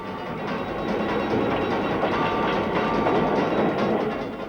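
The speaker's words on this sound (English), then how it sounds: "Leaving Victoria Station for the last time, one of the most famous trains in the world." A Brighton Belle train leaving London Victoria station rumbles steadily and loudly, with a continuous rolling roar and faint clattering of wheels on track, no voices.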